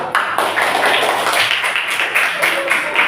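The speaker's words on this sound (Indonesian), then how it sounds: "Tepuk tangan untuk kelompok 3." Classroom clapping for a student group in a coding lesson, a brisk patter of many hands close by, steady and dense for a few seconds.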